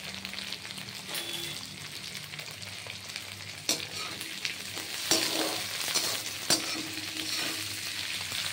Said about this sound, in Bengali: এটা লাল করে ভাজা হবে।